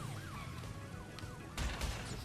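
A police car siren in the video game Crash Bandicoot N. Sane Trilogy wails in rising and falling sweeps, quiet and somewhat distant under busy game noise, before a burst of louder impact sounds near the end.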